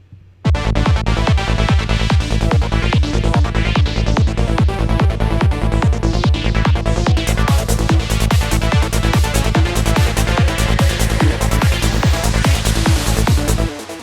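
Psychedelic trance riff built with JavaScript and played in Ableton Live: a loud, driving four-on-the-floor kick under a rapid, rolling synth bassline, steady and unbroken for the whole stretch, with no voices.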